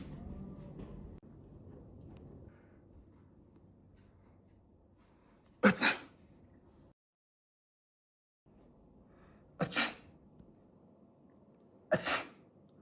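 Three sharp, loud sneezes close to the listener, one at a time with pauses between them and faint room noise in the gaps.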